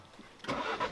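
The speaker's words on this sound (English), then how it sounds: "Start it up, keyless go." A Ford Focus RS engine starting by keyless push-button, a quiet moment and then a sudden crank that catches into a loud, close idle with a small rev.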